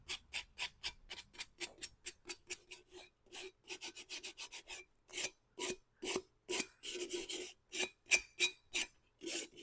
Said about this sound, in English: Just sand it a little bit.